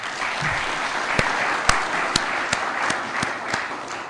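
An audience at a consultative workshop on a national economic recovery plan applauds the moderator, dense even clapping with a few sharper claps standing out, held at a steady level for several seconds.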